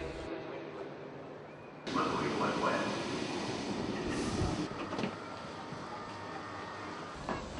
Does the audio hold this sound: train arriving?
yes